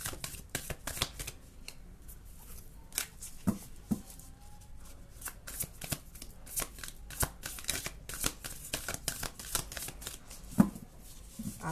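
Angel oracle cards being shuffled, a steady run of crisp papery riffles and soft flicks close up, with occasional sharper taps, no voices.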